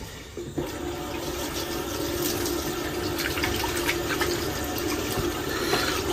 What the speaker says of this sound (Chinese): 焯水，再给他洗一下